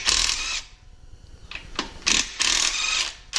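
A power tool spins out the two 13/16 bearing cap bolts on a junkyard Jeep 4.0 engine during teardown, giving loud, close whirring bursts broken by short pauses, with no voices.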